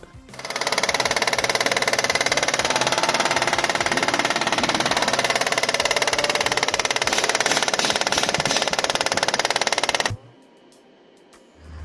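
Mercedes-Benz W204 C230 engine running with a noise at the front of the engine, a loud, steady mechanical drone with rapid ticking close up for about ten seconds before cutting to quiet.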